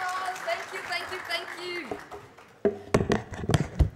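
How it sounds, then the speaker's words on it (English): An audience applauds for Sheila, scattered clapping that rises near the end after a stretch of a voice speaking over a sound system. "And can we give a round of applause for Sheila?"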